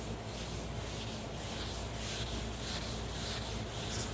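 Steady, continuous hand wet sanding on the body of a Model A based Duesenberg boat tail speedster, a soft rhythmic rubbing and scrubbing with no pauses and no voices.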